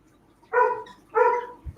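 A dog barks twice, close and fairly loud, a pair of clear spaced woofs with a brief sound starting right after, and no talk.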